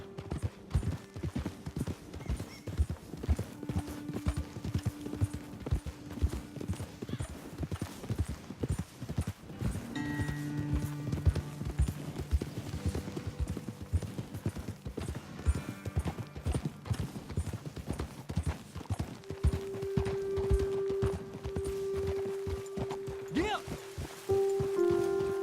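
Horses trotting in Red Dead Redemption 2, a steady rhythmic clip-clop of hooves that continues throughout, with occasional snorts, light rustling and a sustained musical tone, while voices talk over it.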